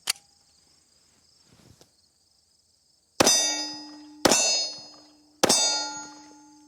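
Three sharp, loud gunshots from a Gen 2 Glock 26 9mm pistol ring out about a second apart, each with a bright metallic decay, after a faint clink and a quiet stretch.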